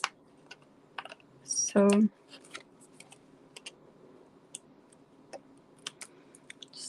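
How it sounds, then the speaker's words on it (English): Card paper trimmed with a paper trimmer, giving one short, loud cutting rasp near the start amid quiet clicks and light handling noises, with a brief word of speech. "Just going to trim this off."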